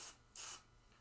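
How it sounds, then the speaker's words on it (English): Spray Away cleaner hisses from a spray bottle in two bursts, a short one at the start and a longer, louder one just after, close to the microphone with no talking. "Spray away is great for cleaning off your fingers"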